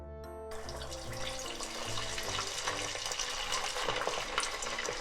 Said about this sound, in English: Let's fry the eggplant first.